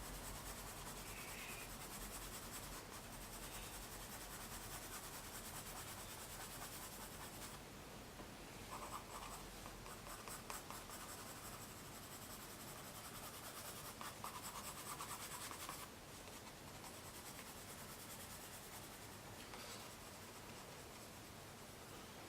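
Prismacolor colored pencil burnishing on paper, a faint continuous scratchy rubbing with steady back-and-forth strokes, alone and close.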